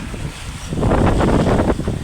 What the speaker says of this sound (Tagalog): bahagya-bahagya lumalakas na ang hangin dala ni super typhoon